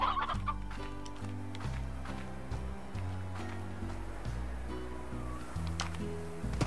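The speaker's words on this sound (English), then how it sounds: "Ah, it's chickens." Chickens clucking in the video game Slime Rancher, with repeated short clucks and rustles over a steady background of game music.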